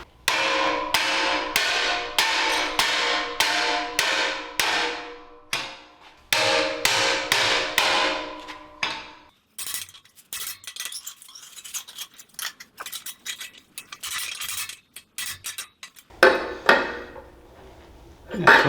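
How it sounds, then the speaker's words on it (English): Rapid metallic hammer blows shaping a stainless steel muffler hanger for a V-twin exhaust, ringing in two quick bursts of evenly spaced strikes, then scattered clanks and scraping, ending with another loud clatter. "Now I can hammer it to tighten up that space"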